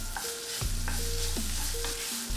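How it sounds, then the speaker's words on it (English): Tomato paste being stirred and fried in a pan for shepherd's pie, with a steady close sizzle under scraping spoon strokes and no talking. "Add 2 tablespoons of tomato paste and give it another good mix and cook for 2 more minutes"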